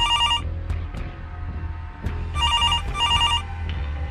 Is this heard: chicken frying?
no